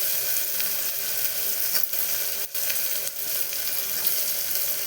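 Tomatoes frying in a pan with garlic and coriander, a steady loud sizzle throughout with a few brief scraping stirs, no voices.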